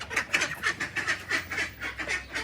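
Hungry, unfed ducks quack loudly and continuously at close range, a steady rhythmic series of harsh calls with no talk over them.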